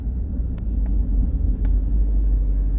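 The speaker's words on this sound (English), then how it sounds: "This is a big old party bus." A big party bus passes close by on a city road, a steady loud low engine rumble and road roar that stays level throughout, with no voices.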